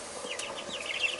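Three-week-old Khaki Campbell ducklings peep and chirp in a brooder, a rapid flurry of high, close calls overlapping each other against a low background hum.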